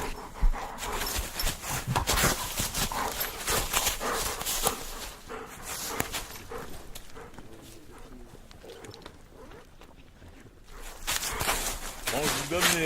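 A dog pants and pads along close by on a walk, breathing in quick rhythmic bursts amid footsteps and rustling, with a person talking intermittently over it.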